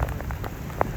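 Heavy rain pouring down outdoors in a violent windstorm, a dense steady wash of drops with a few sharper splashes and no talk.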